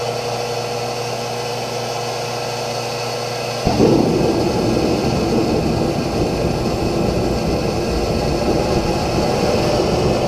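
A diesel forced air heater roars steadily, its fuel burning, with a sudden surge in broadband rumble a few seconds in that then holds loud and continuous.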